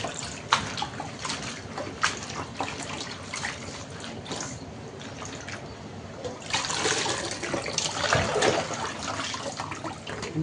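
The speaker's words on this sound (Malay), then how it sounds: "Oke, kita cuci bagus-bagus sebelum kita masak dia." Vegetables being washed in water before cooking, a steady splashing and running-water wash that grows louder and busier in the second half, with no talk.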